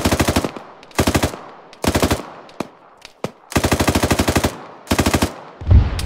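Automatic gunfire in a tactical shooter video game: repeated loud, rapid machine-gun bursts of roughly half a second each, with occasional single shots in the gaps and no voices.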